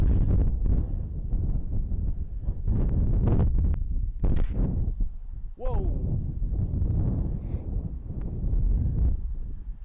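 Headwind blowing outdoors on a disc golf course, loud continuous buffeting rumble against the microphone throughout, with brief rustles and a short whistle-like sweep partway through.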